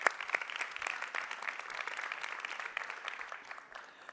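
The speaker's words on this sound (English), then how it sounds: "a round of applause" Audience applause at a European research and innovation conference session on artificial intelligence, welcoming a panelist; steady, moderately distant clapping from a mid-sized crowd, fading slightly toward the end.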